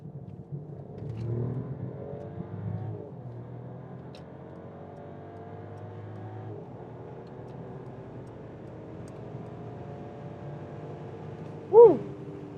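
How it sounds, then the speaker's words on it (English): A Mercedes-Benz S-Class accelerates from 50 to 170 km/h on the Autobahn, its engine note rising steadily and muffled as if heard from inside the cabin, with a brief sharp bump near the end. "So it was again 50 to 170 kilometers an hour with the Mercedes S-Class."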